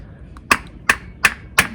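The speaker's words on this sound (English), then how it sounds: "Trying to hit it proper direction. I'm going to take quite a bit of hits" A screwdriver is hammered to pry a CV axle out of a Honda: four sharp metallic hits land at an even pace, close and distinct against a quiet background.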